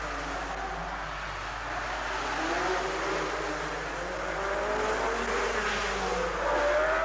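1950s Formula One race cars roar away from the start of the Monaco Grand Prix, engines revving hard with wheel spin as the pack pulls off together in a steady, loud blare with rising engine tones.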